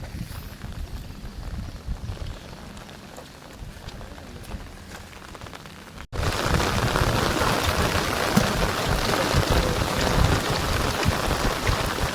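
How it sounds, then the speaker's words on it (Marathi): Steady heavy rain pours throughout, a dense hiss of drops; partway through it abruptly jumps louder and closer, drumming hard on an umbrella. "पाऊस आलाय जोरदार एकदम छत्री घेऊन आहे इथं"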